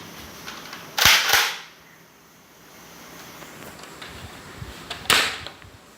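Nerf blasters fire foam darts in two sharp snapping shots a few seconds apart, close by, against quiet room background with no talk.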